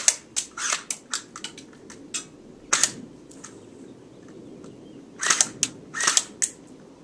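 A CYMA MP5 electric airsoft gun fires semi-automatic shots, giving sharp, snappy cracks in irregular single and quick clustered bursts, with short quiet gaps between them.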